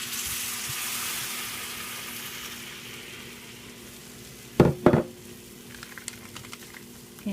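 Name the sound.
water added to hot rice dish on Evolve grill, sizzling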